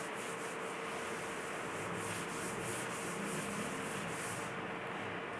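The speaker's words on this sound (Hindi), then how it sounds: "इसको मैं रब कर देती हूँ यहाँ से" A duster rubs steadily across a classroom board, wiping off chemistry writing in a continuous, moderately loud scrubbing hiss with a faint repeating back-and-forth rhythm, no voices over it.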